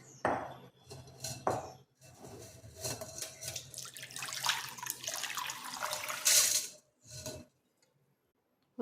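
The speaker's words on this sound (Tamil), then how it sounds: "வடிகட்டிக்குவோம்." Dissolved jaggery water for panakam is poured through a strainer in a kitchen, giving bursts of splashing and trickling liquid with light clinks of utensils. The pouring stops abruptly near the end.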